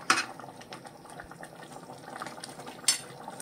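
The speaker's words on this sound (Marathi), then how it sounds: "आता ही छान उकळतीये." A pot of fresh field bean curry (pavta usal) bubbling on the stove, a faint, steady simmer with soft pops and a couple of brief clinks of utensils at the start and near the end.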